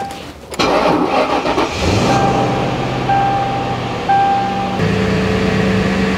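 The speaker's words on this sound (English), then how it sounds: "Engine's running." A car engine cranks briefly and then catches, settling into a steady, loud idle with a rising hum before easing back, close by with no talking.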